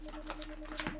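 Tarot cards are shuffled by hand for a reading, a brief, soft riffling flutter of card edges lasting about a second, close by and quiet.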